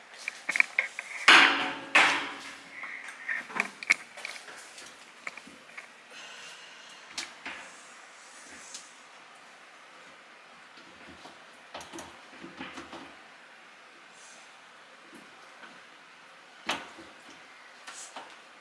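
Wooden honey frames clunk and scrape as they are loaded into a Hillco Ultramax honey extractor, with a few sharp knocks near the start and then sparse, quieter handling bumps.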